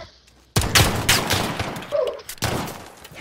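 Shotgun blasts in the Modern Warfare video game, two or three loud close booming shots with a short pause between them, with a voice briefly heard.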